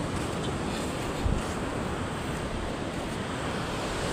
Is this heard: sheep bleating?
no